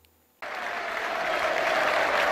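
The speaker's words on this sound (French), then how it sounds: "Une assemblée comble et un tonnerre d'applaudissements." A packed chamber of the US Congress bursts into loud, sustained applause that swells and holds steady, with no talk over it.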